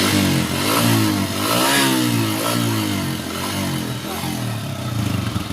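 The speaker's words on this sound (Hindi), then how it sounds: "रेस दे भाई।" A Hero Honda Deluxe 125 motorcycle engine revs up and down in a few quick throttle blips, close by and fairly loud, with a buzzy exhaust note and no talking.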